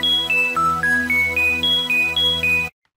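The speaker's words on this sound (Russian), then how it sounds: "Вот как звучит пресет без эффектов." A Serum synthesizer arpeggio preset with effects and filter switched off: ten evenly spaced, plain-toned notes step up and down over a sustained low drone, then stop abruptly into silence.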